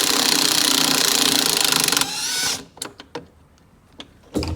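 A power tool rattles rapidly for about two seconds while undoing a bolt on a Seadoo 787 engine, then winds down into a brief whir, followed by scattered metallic clicks and taps as the part comes loose.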